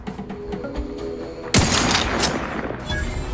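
Gunfire from the video game The Outer Worlds 2: a sharp, loud burst of shots erupts midway over background game ambience, followed by a continuing noisy rattle of fire and a fainter crack near the end.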